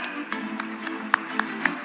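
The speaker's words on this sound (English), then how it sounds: "round of applause for them" Sparse, faint claps from a festival audience honoring the jury of a film festival, a handful of separate hand claps over a low steady hum.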